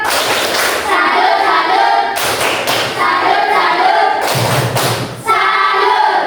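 A school class performs a 'tepuk salut' clapping cheer, with bursts of loud, rhythmic group claps and thumps in several distinct rounds separated by brief pauses, with voices mixed in.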